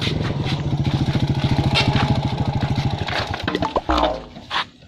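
A small motorcycle engine putters with a quick, regular pulsing beat close by, then cuts out near the end, leaving brief thumps and rustling.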